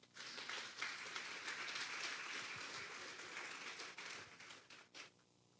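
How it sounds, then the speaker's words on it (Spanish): Loud, sustained applause from a church congregation during a Sunday service, a dense wash of clapping that carries on for several seconds before stopping abruptly. "Denle un fuerte aplauso al Señor."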